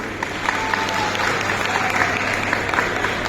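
Loud, dense applause from a church parish-day audience fills the hall steadily, welcoming women performers onto the stage for an action song, with a crowd murmur beneath.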